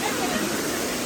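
Rushing water at Katiki Waterfalls in Araku: a loud, steady, close roar of falling water with no break.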